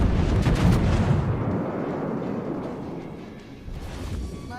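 Naval gunfire in World of Warships from a Kongo battleship: a loud, booming salvo with a long rumbling tail that fades slowly, then a smaller thud near the end.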